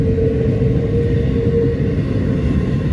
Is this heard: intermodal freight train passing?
yes